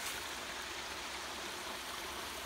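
Steady, continuous rushing of water pouring over a beaver dam in woodland, a dense even hiss with no breaks or voices.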